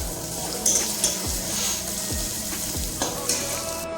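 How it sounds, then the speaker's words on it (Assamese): Oil sizzles steadily as ginger-garlic paste fries, with a spoon scraping and stirring through the pan at intervals, close and fairly loud. "আদা নহৰু পেষ্টটো অলপ ভাজি আছোঁ"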